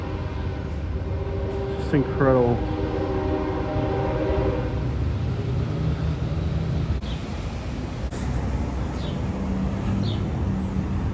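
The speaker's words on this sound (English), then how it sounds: "I can feel the building shaking when the train passes by." A train rumbles steadily past with a horn sounding briefly near the start, while a person speaks over the constant roar.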